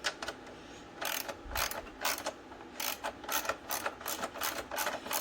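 Bolts on a Can-Am Ryker rear wheel are tightened with a ratchet, producing bursts of rapid close clicking separated by short pauses.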